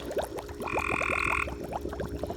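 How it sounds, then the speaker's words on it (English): A frog in a backyard swimming pool croaks in a quick series of short clicks, with a sustained, buzzing trill in the middle. The calls are fairly close and come over a low outdoor hum. "I feel bad for that frog."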